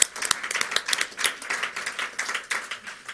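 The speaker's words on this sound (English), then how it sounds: "Yes, we can clap." Scattered clapping rises from a modest audience at a school board meeting, a handful of hands giving uneven, sparse claps at close range that fade in and out rather than building to full applause.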